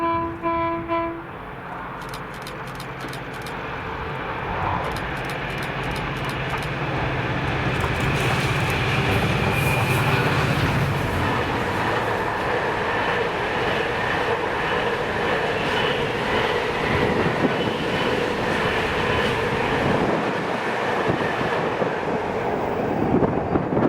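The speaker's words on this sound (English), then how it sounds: "this was 4D47, the 1651 Inverness to Mossend Tesco liner with" Class 66 locomotive 66433 hauling the Inverness to Mossend Tesco liner freight in Scotland, a loud passing rumble of engine and clattering wagons that builds and holds steadily, with a brief horn-like tone at the start.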